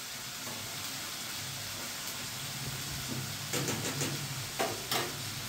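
Garlic and masala spices frying with tomatoes in a pan for a Gujarati thali, a steady close sizzle with soft stirring scrapes and a few louder crackling bursts toward the end.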